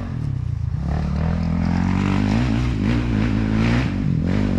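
A Honda CRF dirt bike engine revs and climbs in pitch as it labors uphill, loud and close, with throttle swells and no talking.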